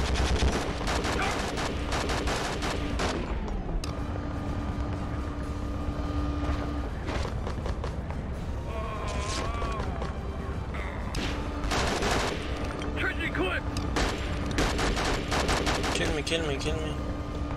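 Rapid bursts of automatic gunfire keep rattling in the war video game Conflict: Desert Storm II, loud and almost nonstop over sustained game tones and background effects.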